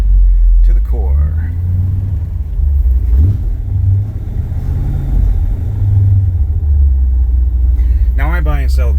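A 1962 Chevrolet Impala SS engine idles with a loud, steady low rumble throughout, briefly swelling once near the middle; a voice speaks over it toward the end.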